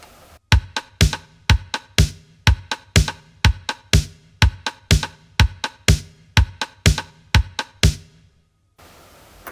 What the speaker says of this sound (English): and with a rim shot pattern like this,